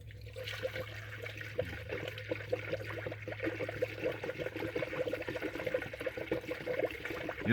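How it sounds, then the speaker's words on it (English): Fluid pours into a 2003 BMW 330ci during maintenance, a soft continuous trickle close by at low level with a faint hum underneath. "You're pouring it in, you want to look too, make sure nothing's leaking."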